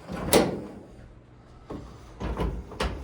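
A Samsung dryer's front panel door is lifted and seated onto its bottom tabs, making a sharp plastic knock followed by several softer clunks and taps as it settles, close by with no voices.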